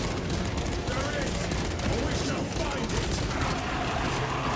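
Rapid video game gunfire crackles densely, with a pistol firing among chaotic battle noise, loud and continuous, while a voice talks over it.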